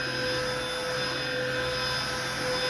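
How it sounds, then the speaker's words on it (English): A lightweight stick vacuum cleaner runs steadily and close, a constant high-pitched motor whine with airy suction hiss, alone without talk. "look how quick you can just vacuum this"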